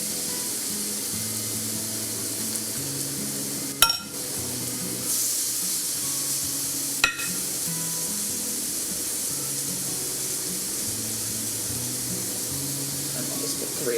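Spinach burger patties sizzle on a non-stick cooktop, a steady bright hiss with two sharp clicks partway through, while low background music plays beneath.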